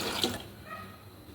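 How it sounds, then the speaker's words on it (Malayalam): Half a litre of milk is poured into a pan on the stove for porotta payasam, a brief soft liquid splash and trickle heard close up. "ഒരു പാൻ അടുപ്പിൽ വെച്ച് അതിലേക്ക് 1/2 ലിറ്റർ പാലാണ് ഒഴിച്ചു കൊടുക്കുന്നത്"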